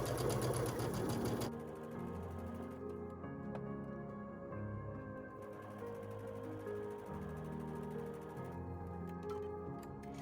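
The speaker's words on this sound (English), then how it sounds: "I will now make my 1/4 inch seam on my second tree." A sewing machine stitches a quarter-inch seam through fabric for a Christmas table runner, a steady mechanical whir with rhythmic needle clatter, close and alone.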